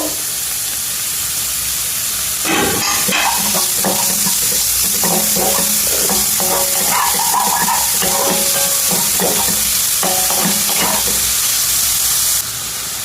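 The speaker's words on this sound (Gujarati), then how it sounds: "એક ઓનિયન સોતે કરી લઈશું." An onion sautés in a pan, a loud, continuous close hiss of frying broken by rhythmic scraping and clattering of a utensil stirring through the middle stretch, with no talking.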